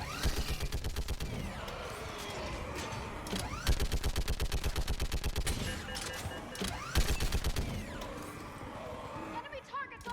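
Rapid machine-gun fire from the video game Mass Effect 3, long rhythmic bursts of loud shots repeating through ten seconds, with shouted voices heard between and under the firing.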